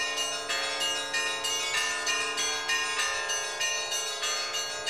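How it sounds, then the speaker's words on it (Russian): Church bells ring out at the close of a Christmas service, a steady, rich peal of repeated strikes with long overlapping resonance, loud and close with no voices over it. "Завершилось богослужение звоном колоколов."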